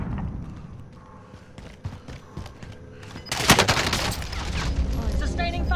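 Gunfire in a first-person shooter: scattered shots and footsteps at first, then a dense burst of rapid automatic fire that keeps rattling close and loud, with voices mixed in.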